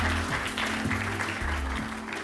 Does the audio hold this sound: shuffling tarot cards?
no